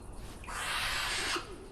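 A single drawn-out raspy hiss-like screech from young owls in a breeding box, loud and close, lasting about a second against a faint background.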